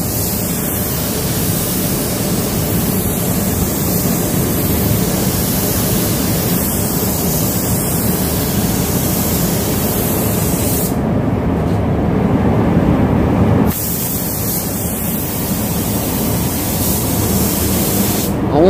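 A spray gun hisses continuously while painting a Suzuki Katana motorcycle green, a loud, steady airy rush that pauses briefly and resumes, with faint voices in the background.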